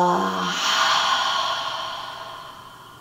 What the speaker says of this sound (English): Take a big inhale.